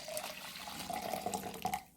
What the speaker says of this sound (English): So we're going to put this water and we are going to put this inside this jar.